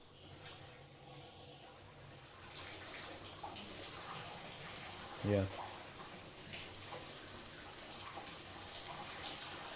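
Hot water from a solar-heated domestic system runs from a tap as a steady wash of noise, with a brief thump partway through and a voice speaking over it.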